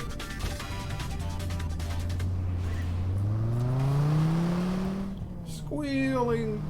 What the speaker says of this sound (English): Squealing tire sound.